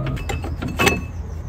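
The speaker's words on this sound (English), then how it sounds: "So let me remove the brake caliper." A brake caliper comes off a Dacia Sandero with a short burst of close metallic clunks and scraping, peaking in one sharper clank near the end, with no talking.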